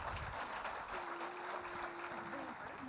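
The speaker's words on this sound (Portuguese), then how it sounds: "Uma salva de palmas também." A conference audience at a telecom industry panel gives steady, continuous applause for a guest joining the panel, with a voice speaking over it.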